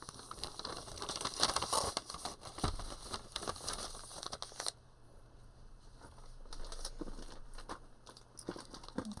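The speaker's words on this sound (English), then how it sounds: "they're just little plastic bags to put in, put out." Small plastic colostomy bags crinkle and rustle as they are handled up close, with busy bursts of crackling at first that settle into quieter, sparser handling.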